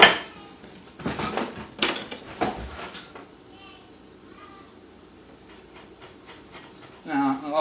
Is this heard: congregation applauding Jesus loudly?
no